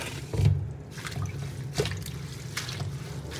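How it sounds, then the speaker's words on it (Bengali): Bathua leafy greens are rinsed in water that is changed repeatedly, giving soft intermittent trickling and splashing sounds with a couple of louder sloshes, close by and without talk. "তো প্রথমে শাকটাকে খুব ভালো করে ধুয়ে নেবো জল পাল্টে পাল্টে।"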